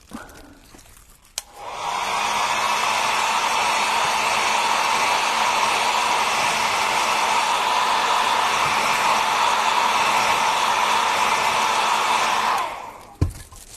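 A hair dryer blows hard on a recycled fairy craft piece, switching on with a click and running as a loud, steady whooshing whir for about eleven seconds before cutting off.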